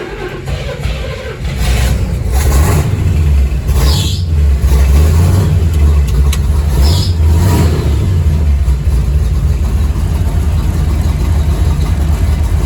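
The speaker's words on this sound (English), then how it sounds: "Idling at about 750 right now." A Chevrolet Bel Air gasser with a new Holley carburetor catches after a brief crank, revs up a couple of times, then settles into a steady low idle around 750 rpm, loud and close.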